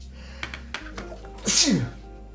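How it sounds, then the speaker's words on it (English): A single loud, sharp sneeze bursts out up close after a few quiet clicks and a soft low hum. "I'll have to sneeze."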